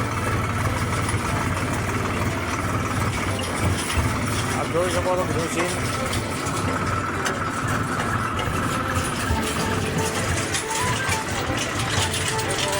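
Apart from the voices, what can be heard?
tractor engine running during a ride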